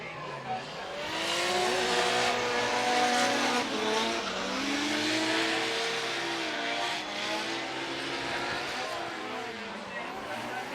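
Formula Drift Japan competition car with a Toyota 1GR V6 turbo sliding at Sportsland Sugo, loud engine revving and sustained tire squeal as it skids off course, with a commentator talking over it.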